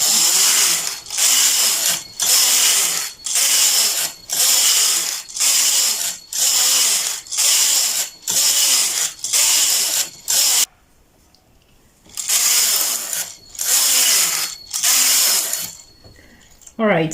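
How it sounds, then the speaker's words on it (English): A knitting machine runs straight rows of a skirt, its carriage sweeping back and forth with regular loud rasping passes about once a second, then a brief pause before more passes resume. "Now I'm going to continue knitting straight until I have 150 rows here."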